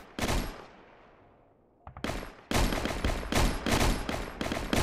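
Gunfire in the Roblox war game Operation Overlord: one sharp shot decays into a long echoing tail, then a dense run of rapid bursts follows, loud and close.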